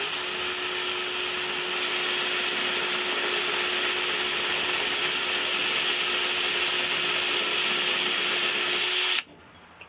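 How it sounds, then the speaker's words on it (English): A power drill bores steadily through rivet heads inside a van, a loud continuous whine held for about nine seconds before cutting off abruptly near the end. "start with a drill bit, place it into the hole, and start drilling until the head comes off"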